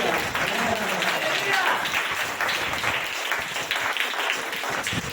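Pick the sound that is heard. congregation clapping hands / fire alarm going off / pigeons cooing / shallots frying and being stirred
congregation clapping hands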